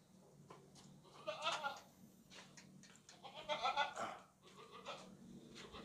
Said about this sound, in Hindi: अच्छा बकरा है, खूबसूरत बकरा है